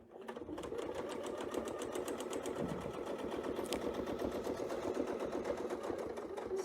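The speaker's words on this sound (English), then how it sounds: "So I think I'm sewing a little too far" A sewing machine stitches curved quilt pieces in a steady, fast rhythmic whir of needle strokes, fairly quiet and continuous with no talking over it.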